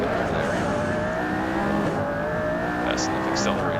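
A McLaren P1 in Assetto Corsa revs hard under acceleration, the sustained engine whine loud and steady throughout, with a few brief higher chirps near the end.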